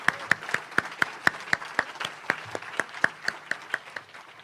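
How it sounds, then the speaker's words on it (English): Sparse rhythmic clapping at a Rotary year-end changing-of-the-guard program, a few hands beating a steady even pulse for several seconds, sounding like a small group or single close clapper. "let's give them a round of applause for everything they did"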